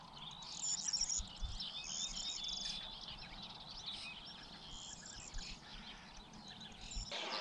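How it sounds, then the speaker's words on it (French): An ortolan bunting sings and chirps from a distance over a steady outdoor hum of insects, with no talking. "J'entends l'ortolan là-bas"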